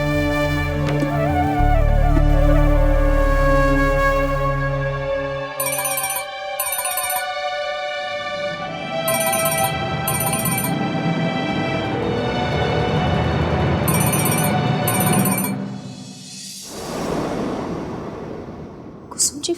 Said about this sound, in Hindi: कुसुम जी फोन क्यों नहीं उठा रही है?